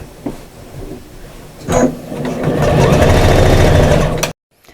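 A sewing machine runs a short back stitch on a reversible shopper bag, a loud close whirring burst that builds after a few handling clicks and stops abruptly.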